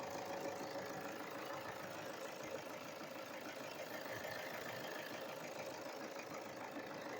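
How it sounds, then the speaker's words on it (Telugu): A 2014 Toyota Innova Crysta engine idles steadily nearby just after starting, a constant low rumble with a faint knocking texture and no pauses. "ఇంజన్ వచ్చేసి స్టార్టింగ్ రేంజ్లో ఉందండి ఓకేనా స్టార్ట్ చేసాము"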